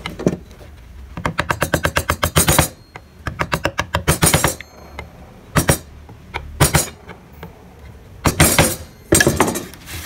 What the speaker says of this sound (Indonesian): di bagian yang tengah tinggal kita rapikan menggunakan pahat penguku